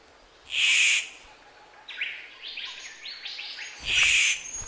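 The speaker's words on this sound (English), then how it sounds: "The dapper bird belts out a seductive squawk." A sleek black adult male bird gives a seductive courtship squawk in the Australian wild: two loud, harsh bursts that bracket a series of quicker chattering notes, close and clear over quiet background.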